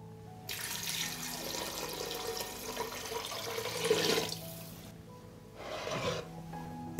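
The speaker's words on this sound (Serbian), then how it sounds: "Sipat ću litar vode." A litre of water pours into a pot of vegetable soup in a steady rushing stream for several seconds, followed by a short second splash, close and clear with no voices.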